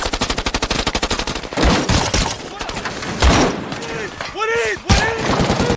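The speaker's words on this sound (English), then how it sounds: "they were ambushed by ISIS who had blocked the route, leading to a fierce gunfight" Gunfire in a film battle scene, an ambush on a road: rapid regular machine-gun bursts open the scene, followed by heavy single shots, thuds and chaotic firing, with shouting voices in between.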